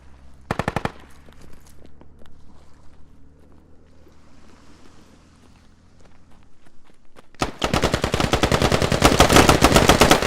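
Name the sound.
gunfire in the video game Squad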